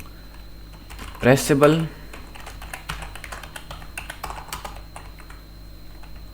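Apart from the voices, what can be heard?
typing code on a computer keyboard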